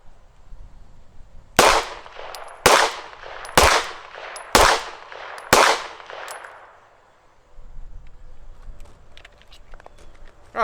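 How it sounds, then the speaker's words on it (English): Five loud pistol shots from a Staccato P, fired at an outdoor range at roughly one-second intervals, each a sharp crack with a trailing echo, followed by a quiet stretch and faint clinks. "We're going to shoot a 5-shot group with the Staccato"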